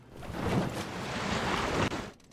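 Ocean waves surge and wash around a yacht on the open sea, a broad rushing swell mixed with wind that builds and then falls away.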